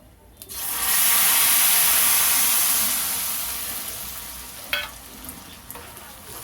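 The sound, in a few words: tamarind pulp added to frying rice mixture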